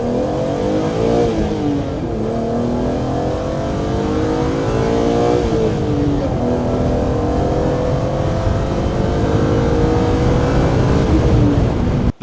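A 1990s BMW six-cylinder engine, apparently in a Z3 M Coupe, revs loudly and continuously, its pitch climbing and falling in several sweeps with a smooth, dense exhaust tone throughout.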